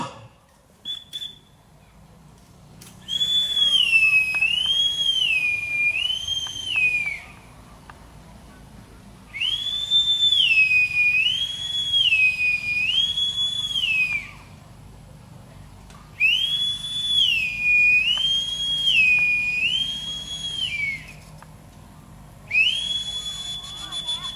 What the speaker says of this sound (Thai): จะให้เสียงนกหวีดเรือนะครับเมื่อนายทหารจะขึ้นเรือ